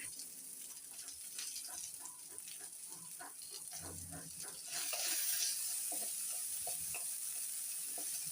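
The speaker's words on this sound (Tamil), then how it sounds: "வெங்காயத்தையும் போட்டு நல்லா வதக்கலாம்" Onion and split lentils (moong dal) sautéing in a pan for a cabbage stir-fry: a soft, steady sizzle with occasional stirring scrapes, growing a little louder partway through, with faint background voices.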